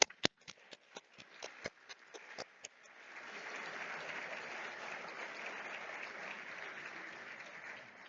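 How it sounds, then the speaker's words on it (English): A few scattered claps, then audience applause builds into a steady, broad wash at a conference opening ceremony, honouring the scientific committee and reviewers. "And let's give both the scientific committee and all the reviewers a round of applause."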